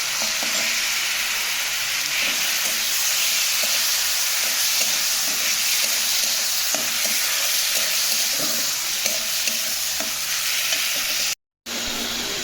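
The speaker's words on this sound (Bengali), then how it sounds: "তারপর আদা, গ্রেট করে রাখা টমেটোটা, আর দিয়ে দেব পেঁয়াজ।" Ginger, grated tomato and onion fry in a pan, making a continuous close sizzle with light stirring taps throughout and a brief dropout near the end; no one speaks.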